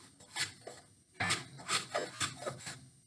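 Block plane taking short angled strokes across a wooden seat board, bevelling its edge; a run of close rasping, scraping bursts with a brief pause after the first few, near and alone.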